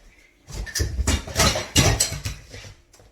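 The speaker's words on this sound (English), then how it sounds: "that loud noise you heard was my food processor top attacking me" A plastic food processor lid clatters loudly as it falls and bounces in a kitchen, a burst of rattling knocks lasting a couple of seconds before fading.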